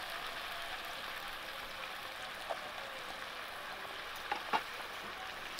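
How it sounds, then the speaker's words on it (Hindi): Capsicum curry with turmeric and Kashmiri chilli powder is stirred in a pan, making a soft continuous sizzle with a few light scraping clicks near the end. "तो अब अच्छी तरीके से चला कर मिक्स कर देंगे"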